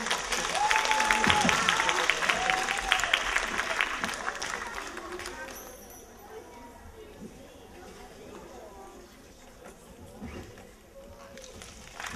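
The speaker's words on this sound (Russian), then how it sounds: "Аплодисменты!" Audience applause at a concert stage show, a loud wash of clapping and crowd noise with some voices for several seconds, then fading to quieter room sound with murmuring.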